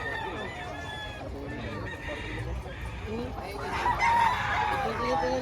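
Chickens cluck and a rooster crows over a busy outdoor background, the calls overlapping and moderately loud, with no clear talking.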